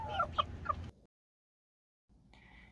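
Mottled Houdan chickens cluck in a quick burst of a few close, clear calls, followed by a second of silence and then faint background noise.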